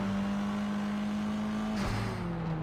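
Car in the video game Sleeping Dogs driving at ramming speed after a handbrake turn, a steady engine drone that shifts abruptly near the end as the car strikes something, a brief burst of impact noise, then the engine carries on alone.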